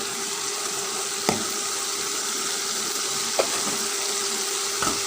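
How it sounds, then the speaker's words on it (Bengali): Spices sizzle steadily in a hot pan as roasted cumin is added, with a few soft clinks of a spoon against the pan and no voices. "এর মধ্যে আমি এখন ভাজা জিরা দিয়ে দেবো।"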